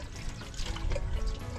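Peeled cassava is washed by hand in water, a brief close splashing and pouring slosh with no voices.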